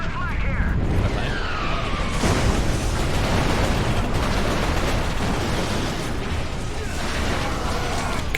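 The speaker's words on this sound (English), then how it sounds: "Oh, just shot a grenade at." A grenade bursts in the first-person shooter Resistance: Fall of Man, its loud blast sitting inside a constant wash of dense, roaring battle noise that continues for the whole stretch.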